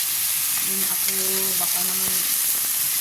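Ground meat sautés in a pan with garlic and tomato, giving a loud, dense, continuous sizzle with a few faint clinks of stirring and a brief tone in the background.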